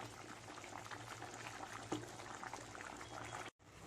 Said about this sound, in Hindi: इसमें जो पानी है वो ड्राई होने तक ऐसे ही पकाते रहिए हाई फ्लेम पे।